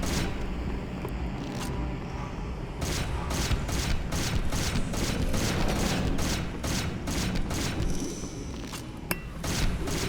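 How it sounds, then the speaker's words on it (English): An enemy in the video game Hunter: The Reckoning fires a steady run of sharp, rapid shots over a loud, dense background of game noise, with no talking. "Now you see that guy, he was shooting at that innocent."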